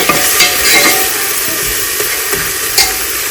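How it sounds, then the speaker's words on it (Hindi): Onion and garlic fry in a large pan to temper chickpeas, giving a loud, dense, continuous sizzle. Faint stirring scrapes break through it now and then. "मैंने ना चनों को तड़का लगाने के लिए रख दिया है।"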